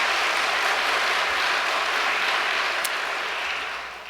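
Audience applause at a church gathering, a dense steady wash of clapping that holds evenly for about four seconds before tapering off slightly at the end.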